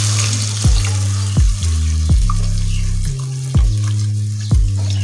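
Spice masala fries in a pan for a vegetable kofta curry, a steady loud sizzle broken by several regular thumping stirs or scrapes about once every second.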